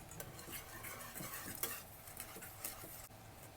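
Spoon or whisk stirring sifted flour into a beaten egg batter for a coffee sponge cake, a steady close scraping and swishing against the bowl with small clinks, no talking.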